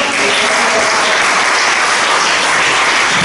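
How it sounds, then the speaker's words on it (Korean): Dense, steady audience applause fills a church revival prayer gathering as a senior pastor is welcomed to the stage, a continuous wash of clapping from many hands throughout without a break. "우리 목사님 나오실 때 열렬하게 박수를 맞아주시기 바랍니다"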